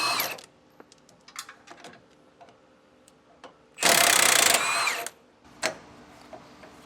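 Wrenches and tools work on the suspension shackle bolts of a 2012 Forest River Wildwood trailer during a Dexter E-Z Flex install: scattered metallic clicks and taps, then a loud sustained buzzing tool burst lasting about a second, then more light clanks.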